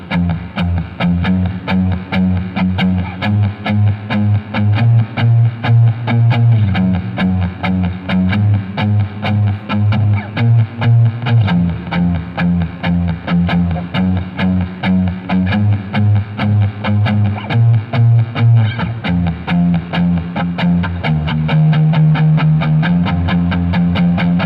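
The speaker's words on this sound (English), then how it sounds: "it's a single note low bass note part" Distorted electric guitar on the neck pickup plays a single-note low bass line, loud and up front, with steady rhythmic picked notes shifting pitch every few seconds over nearly twenty-five seconds, no talking.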